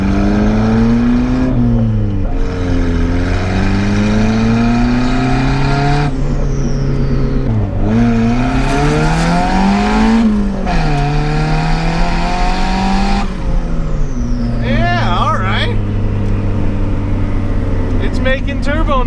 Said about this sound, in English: Making turbo noises and boost, it seems like.